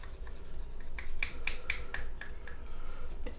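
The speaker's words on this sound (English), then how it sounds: "I'm going to be scraping straight down onto the plaque" A knife scraping straight down a bassoon reed toward the plaque gives a run of short, dry rasping strokes, close and fairly faint, repeating in an uneven rhythm with no talking.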